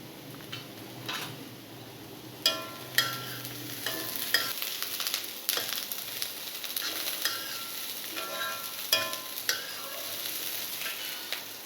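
Vegetables including beans and capsicum stir-fry for restaurant-style veg fried rice, giving a continuous sizzle broken by sharp clicks and scrapes of the spatula against the pan, close and fairly loud.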